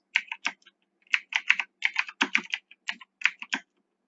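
Keys clicking on a computer keyboard while code is entered in a beginner Python programming lesson, short bursts of crisp close keystrokes separated by brief pauses, with no talking.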